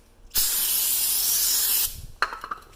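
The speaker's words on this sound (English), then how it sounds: "you're gonna get some brake cleaner, you're gonna spray it" A loud, steady hiss of brake cleaner sprayed onto a brake rotor for about a second and a half up close, then stops, followed by a few light clicks and handling sounds.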